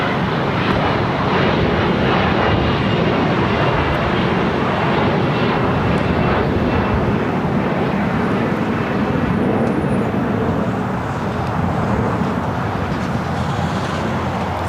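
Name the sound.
United Express SkyWest flight taking off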